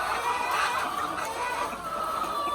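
Wet chickens cluck softly in a coop during heavy rain, with scattered short calls over a steady wash of rainfall noise.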